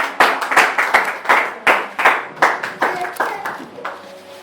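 A church congregation claps together in praise for Jesus Christ, a loud, steady rhythm of sharp hand claps about two per second, with voices faintly mixed in.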